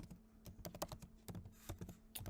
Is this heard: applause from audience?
no